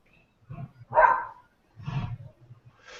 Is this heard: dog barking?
yes